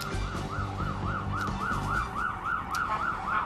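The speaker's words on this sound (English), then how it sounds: "The sirens in the background Saturday night in New York City." A wailing emergency siren cycles up and down steadily, about three times a second, over low traffic rumble in the distance, on a Saturday night in New York City.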